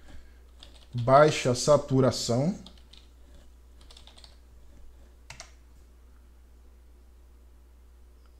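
Light keystrokes click softly and irregularly on a computer keyboard, with someone speaking briefly near the start before the quiet typing continues alone.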